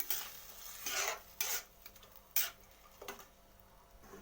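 Moong dal stirred in a pan over sautéed spices, a few separate soft scraping strokes against a quiet background with faint sizzle.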